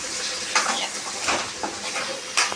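Fish curry being stirred in a home kitchen pan, with soft scraping strokes and light sizzling that swell in a few short pulses over steady frying hiss, close by and without talk.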